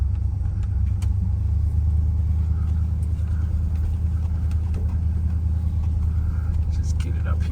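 A 1966 Pontiac Catalina or 1973 Ford LTD engine runs steadily after long storage, a loud, continuous low rumble close by, with faint voices over it.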